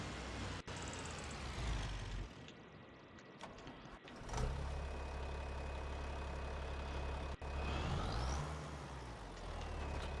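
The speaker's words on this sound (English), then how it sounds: "just going to put the truck over here." A truck engine idling and revving as the vehicle is driven and parked, moderately close, with a brief hiss like an air brake and some gaps and shifts in engine pitch, no voices.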